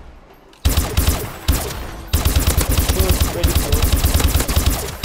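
An OHM gun in Call of Duty: Advanced Warfare fires at a firing range: a few single loud shots, then a rapid sustained burst of automatic fire, with a brief spoken comment.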